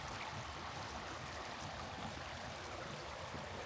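Flood water flowing like a stream around a house under construction in the Philippines, a steady, faint rushing wash with no voices.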